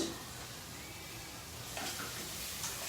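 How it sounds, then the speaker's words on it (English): Steady hissing sizzle of oil frying chillies in a pan, continuous and moderately loud, with a few faint clinks partway through. "a little bit more oil for frying"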